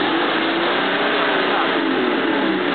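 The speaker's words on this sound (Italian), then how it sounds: "Però ho sentito il motore questo." A car engine runs steadily and loudly at a playground, a continuous close drone filling the whole stretch with no breaks.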